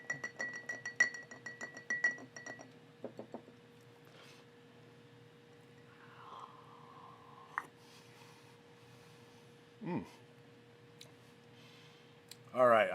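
Ice cubes clink in a glass of Knob Creek 9-year, 100-proof bourbon as a finger stirs it. A quick flurry of light, quiet clinks comes first, then a few scattered taps under soft talk.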